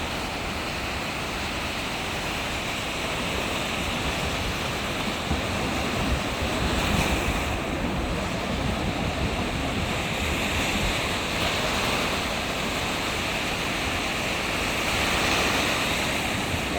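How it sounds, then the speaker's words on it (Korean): Strong ocean surf roars continuously at Gwangalli Beach in rainy weather, waves crashing and rushing in a thick, loud wash mixed with wind buffeting. "오늘 비가 오고 파도가 무척 셉니다."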